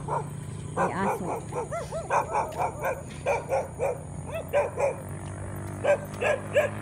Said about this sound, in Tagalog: Tignan natin, may aso.